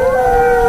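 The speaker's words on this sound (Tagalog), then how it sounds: "Eh, yung mga aso ng kapitbahay. Ngayon ko lang sila narinig na umaalulong ng ganyan." Dogs howling in a long, steady, sustained tone, loud and close, with no talking.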